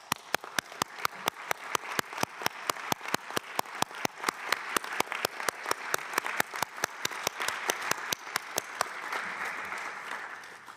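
A conference audience at the UNIDO 19th General Conference, held in hybrid format, claps in a steady, evenly paced rhythm, sharp regular beats over a fuller wash of applause that fades slightly near the end.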